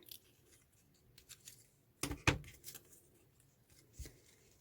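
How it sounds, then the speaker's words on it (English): Scissors snip through a paper flower on a handmade double pop-up card, a quiet cluster of two or three sharp cuts followed by a fainter single snip, with no talking. "I might just cut that little piece off of my flower, just so it's not catching there"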